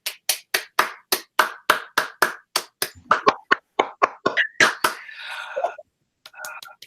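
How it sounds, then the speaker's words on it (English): Audience applause in a classroom critical conversation, a few people clapping in distinct, fairly close claps that form a sparse rhythm, then taper into scattered claps with brief murmuring near the end. "Can we give both Maggie and Gemma a round of applause again for being so brave to do this work for us?"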